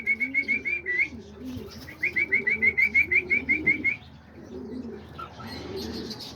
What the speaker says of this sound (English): there's all the cockatiels